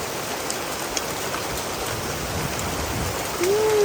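Heavy rain pours during a hailstorm in Laos, a steady, dense hiss of water on surfaces that swells slightly louder near the end, with no voices.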